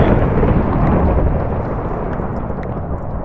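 An explosion in the Minecraft video game produces a loud, dense rumbling roar that fills the clip and slowly fades.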